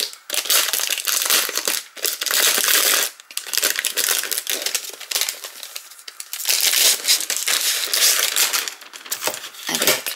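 Crinkly plastic packaging of a Spellbinders BetterPress letterpress kit is opened up close, with loud, continuous crackling and crumpling and a few brief pauses, no talking over it.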